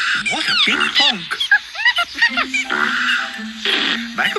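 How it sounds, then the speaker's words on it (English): Cartoon character's big honking sneeze in a children's night-garden show, several goose-like honks and squawks mixed with playful voices and music. "Macapaca did such a big sneeze that it blew the Pinky Ponk and made it bump the tree."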